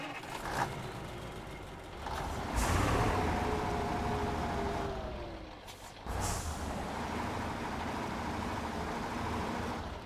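A heavy truck engine in the off-road mud game Spintires rumbles steadily at close range, with sharp hissing air releases at a few points and the drone rising and settling.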